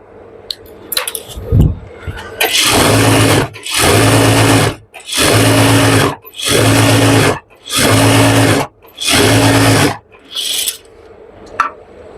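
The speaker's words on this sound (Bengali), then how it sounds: "তো এগুলো সোজা সেলাই তাই একটু জোরে দিয়ে আপনাদের তাড়াতাড়ি দেখিয়ে দিতেছি" A sewing machine runs straight seams on pajama fabric in six loud, even bursts of steady whirring, separated by short pauses, with no talking.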